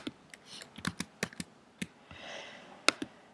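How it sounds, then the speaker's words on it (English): Quiet clicks of a computer keyboard being typed on, a dozen or so separate keystrokes in an uneven rhythm, close and soft, with a brief rustle partway through. "I'm going to start typing."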